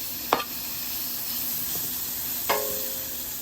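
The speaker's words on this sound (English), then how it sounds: "We're just looking to cook the bacon all the way through" Bacon sizzles in a pan as it fries until crisp, a steady hissing crackle with two sharp clinks of a utensil against the pan, close by and with no speech.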